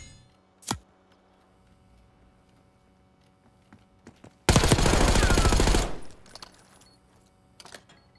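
A loud burst of sustained automatic gunfire lasting over a second in Call of Duty: Black Ops 6 multiplayer, preceded by a single sharp shot and followed by scattered quieter clicks and distant pops.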